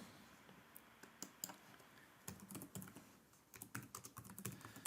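Quiet typing on a computer keyboard while entering text in Carveco Maker design software: a faint pause, then denser clusters of soft keystroke clicks build toward the end, with no speech.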